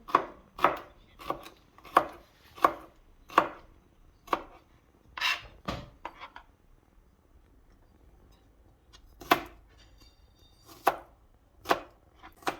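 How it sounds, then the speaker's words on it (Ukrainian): A knife chopping crushed garlic into small pieces on a board, a series of sharp close taps in irregular bursts, some quick runs of chops separated by short pauses. "далі ми будемо нарізати чесник"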